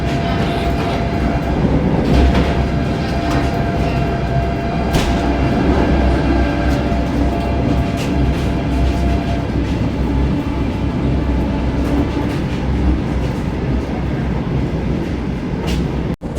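A Vande Bharat Express runs at full speed between Dharwad and Bengaluru, a loud, continuous rumbling roar with faint rhythmic rail clatter that holds steady throughout.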